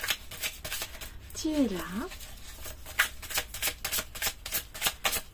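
Tarot cards being shuffled by hand, a rapid run of crisp riffling flicks throughout, close and fairly loud, with a brief spoken remark in the middle.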